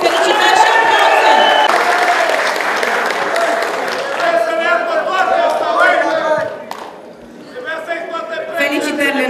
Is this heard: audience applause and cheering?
yes